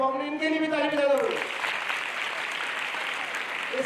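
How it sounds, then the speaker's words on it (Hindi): Audience applause at a motivational talk begins as a voice finishes speaking, then swells into a steady, moderately loud patter of clapping that holds to the end. "इनके लिए भी ताली बजा दो।"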